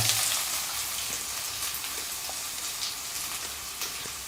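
Onion fries in a hot kadhai for a spicy crab curry (khekdyache kalvan), giving a steady loud hiss and sizzle throughout with faint occasional clinks.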